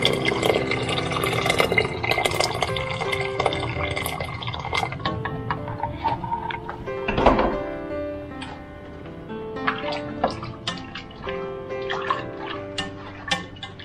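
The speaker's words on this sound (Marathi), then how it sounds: "Now we'll add some hot water." Hot water is poured into a pot of Finnish siskonmakkara sausage soup, giving a steady watery trickle and splash with scattered drips over a continuous background.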